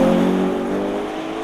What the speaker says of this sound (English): The sound of the car is not so nice.